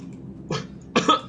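Two short, rough coughs from a player during a PlayerUnknown's Battlegrounds session, the second louder and fuller than the first, close to the microphone.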